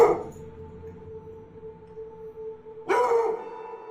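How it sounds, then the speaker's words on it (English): A frightened dog gives a low, drawn-out growling whine that holds steady, then breaks into a louder sharp bark near the end, in a quiet indoor setting. "A petrified dog rushes to its owner as it growls and barks at something unseen"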